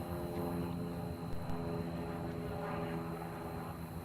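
A propeller airplane flies aerobatic maneuvers such as loops and a hammerhead at a sportsman aerobatics competition, its steady droning engine heard from a distance, fairly faint and even.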